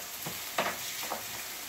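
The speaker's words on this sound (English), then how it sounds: "I'm going to fry me some onion rings up" Onion rings fry in hot oil for an old-fashioned Swiss burger supper, making a faint crackling sizzle with a couple of brief louder spits.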